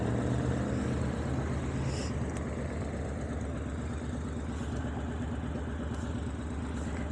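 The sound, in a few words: Triumph Bonneville motorcycle engine idling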